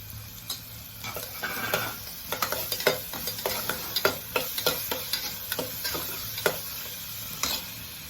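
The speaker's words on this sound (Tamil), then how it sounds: "அதையும் இந்த வெங்காயத்தோடு சேர்த்து நல்லா வதக்கிக்கலாம்" Onions sautéed with a ground paste of chili, garlic and ginger for a peas and corn biriyani, a steady sizzle under rapid, repeated spatula scrapes and clinks against the pan, close and moderately quiet.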